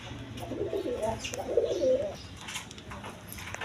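A pair of racer pigeons coos softly in short throaty bursts at moderate distance, amid faint chirps and low background noise.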